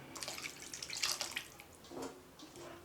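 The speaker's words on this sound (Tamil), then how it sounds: "அரை கப்பு தண்ணி எடுத்து மிக்ஸி ஜார் கழுவி ஊற்றிக்கலாம்" Half a cup of water poured into a mixer jar to rinse it while making chana gravy, a splashing, trickling pour close by with a brief second gush near the end.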